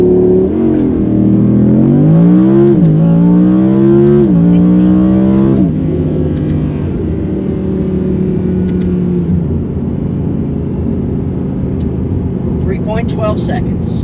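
Factory Audi R8 V10 launching hard in performance mode with manual shifting, its engine roaring up through rising revs with quick gear changes, loud and close, then settling into a steadier drone with faint clicks near the end.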